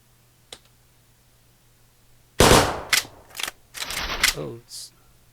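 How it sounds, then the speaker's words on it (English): Slide lock reload of a custom weapon in the game ATPS, heard as a sharp report followed by a sequence of close, crisp metallic clicks and clacks spread over a few seconds. "let's take a closer look at the slide lock reload"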